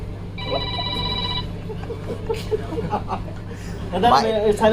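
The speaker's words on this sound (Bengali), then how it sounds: "লাস্টে আমার বাপে ফোন দিচ্ছে।" A phone rings with an incoming call, a steady repeating electronic ringtone from about half a second to one and a half seconds, under a low hum and background chatter, with people talking and laughing afterward.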